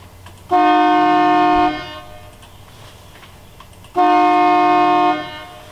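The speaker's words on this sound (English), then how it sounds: "hover the mouse over horn short, and we can blow the horn twice" Two loud blasts from a yacht race station horn at Scarborough, each a steady tone held for just over a second, separated by a pause of about two seconds, with quiet in between.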